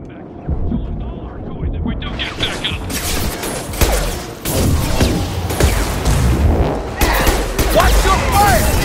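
Missiles exploding in Mass Effect 2 gameplay, a dense run of loud booming blasts and crackling debris that keeps rolling for several seconds, with a voice talking over the barrage.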